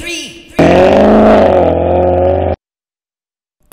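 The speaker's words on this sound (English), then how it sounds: "Gentlemen, start your engine." Race car engine from a Scratch racing game called Super Street Racer drones with a steady, slightly rising rev for about two seconds, then cuts off abruptly into silence.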